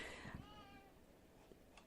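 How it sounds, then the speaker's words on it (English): A cat meows once, fairly close and drawn out, then the sound fades to quiet room tone with a couple of faint soft noises. "I'm sorry about the cat."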